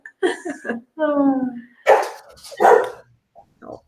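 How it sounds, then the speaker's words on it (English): A dog barks and yips in short bursts indoors, several sharp barks close by, with people talking around it. "My dog really wanted to make her voice heard on this phone."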